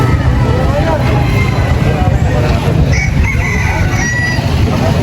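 A rooster crows at a busy outdoor pet market, heard amid steady crowd chatter, traffic rumble and other birds close by.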